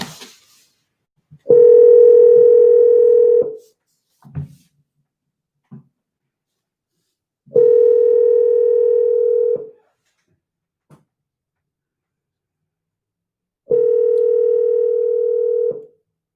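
A cell phone placing a cold call gives three long, steady ringback tones, each about two seconds, separated by pauses, loud and close and not under any talk.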